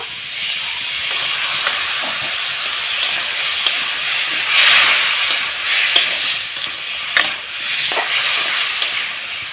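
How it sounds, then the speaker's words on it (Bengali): Fresh papaya chutney is stirred in a pan with chili powder, giving a loud, steady close-up hiss and sizzle with occasional scraping strokes and brief bursts of steamier crackle, no voices. "আবার একটু নাড়াচাড়া করে হালকা একটু জল দিয়ে দিব"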